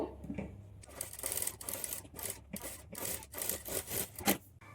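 A sewing machine stitches patchwork blouse fabric along a quarter-inch seam margin, running in short, uneven bursts with brief pauses between them. Nobody speaks.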